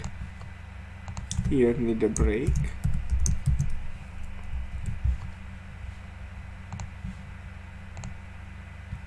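Clicky typing on a computer keyboard while filling in an HTML form, a close, steady run of keystrokes, with someone talking over the first part.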